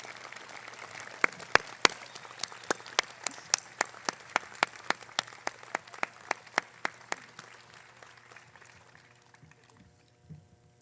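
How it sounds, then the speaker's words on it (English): Applause at a high school graduation ceremony, a broad wash of clapping from a large audience with several sharp, loud individual claps standing out, swelling then gradually fading away toward the end. "I would like to ask everyone to stand and give a huge round of applause for everyone in attendance tonight"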